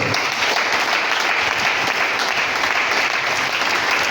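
Sustained, dense applause from a church congregation praising the Lord, loud and steady throughout with no pauses.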